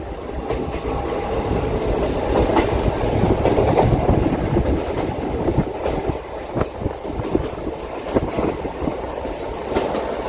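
A DEMU passenger train runs between Kurnool and Guntakal, its steady loud rumble filling the carriage with rhythmic wheel clatter and occasional sharper rattles and squeaks, no voices.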